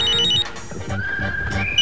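A mobile phone ringtone plays loudly and close, a bright electronic melody of repeating tones over a rhythmic beat, continuing throughout with no talk.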